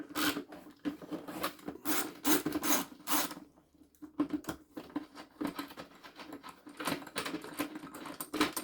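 A 10mm bolt being turned out on a Vax 6131T Multivax vacuum cleaner: quiet, close rasping and clicking from the tool working the bolt, in uneven bursts.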